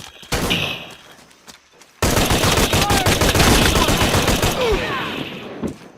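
Video game gunfire in Shadow of the Tomb Raider, loud bursts of rapid automatic fire and scattered shots, dense and close after a brief quieter opening, with shouted voices mixed in.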